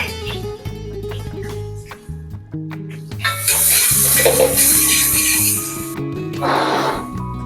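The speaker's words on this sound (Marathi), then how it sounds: "चिरलेला एक कांदा आणि थोडा ब्राऊन होऊन द्यायचा कांदा." Chopped onion frying and browning in a pan for a Konkani-style crab curry, a close sizzle with stirring and scraping that swells loudly partway through, heard over background music with no talking.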